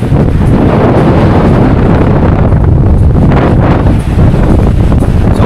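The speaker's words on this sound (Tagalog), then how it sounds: "Tapos mahangin." Loud, steady wind buffeting the microphone by the sea in Boracay, a rumbling low roar with brief gusts and no voices.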